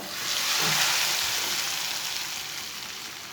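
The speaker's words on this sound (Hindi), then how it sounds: "अब प्याज का तड़का डाल लेंगे।" Browned onion tadka poured into cooked moong dal gives a sudden burst of bright sizzling that swells, then slowly fades into a steady, softer frying hiss, close and without talk.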